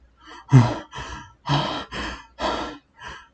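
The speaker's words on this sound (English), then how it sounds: "Quim saw Barnley standing there taking heavy breaths" Heavy, ragged breathing in a tense horror scene: six loud gasping breaths in quick succession, close and alone, with short pauses between each.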